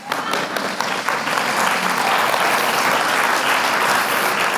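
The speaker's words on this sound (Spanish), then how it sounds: "Pueden aplaudir y así calentamos un poco." Audience at an opinion leaders' gathering in Santo Domingo breaks into applause, dense steady clapping that swells after a few sharper claps and holds loud and even to the end.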